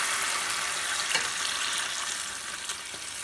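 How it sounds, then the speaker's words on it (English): Beef broth, Campbell's store-bought, poured into a hot pan for beef rouladen, giving a steady, bright frying sizzle with a few small pops and no talking. "And we're going to add 12 ounces of beef broth."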